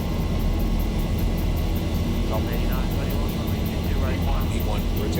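Boeing 737-900ER takeoff roll on a long runway in the flight simulator X-Plane 11, a loud steady engine roar with rising whine, heard alone.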